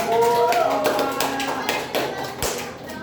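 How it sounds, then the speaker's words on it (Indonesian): At a closing party, people clap for a few seconds, a loose patter of hand claps close by, mixed with voices talking and a short tonal sound near the start. "Tepuk tangan dong Pak."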